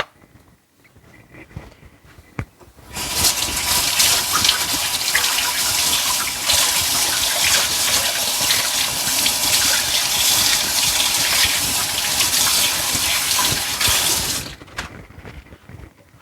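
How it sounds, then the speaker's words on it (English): Tap water gushing steadily as hands are washed beneath it, a loud continuous splashing rush that starts abruptly, runs for about eleven seconds and then cuts off. "Let me wash my hand"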